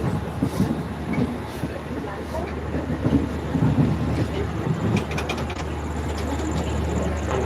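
A train rumbles steadily along a curving track, a low continuous roar with rattling and scattered clunks, heard from inside the carriage.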